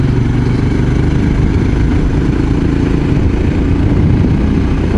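A Royal Enfield Scram 411 motorcycle engine runs steadily and loudly throughout, a continuous low rumble as the bike is held in third gear on a forest road.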